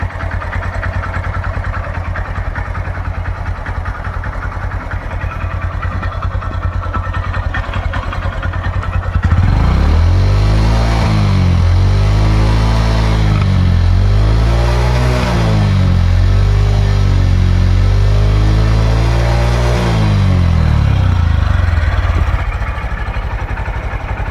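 A 2018 Honda Livo motorcycle idles smoothly up close, and partway through the engine is revved in several rising and falling swells before dropping back to a steady idle.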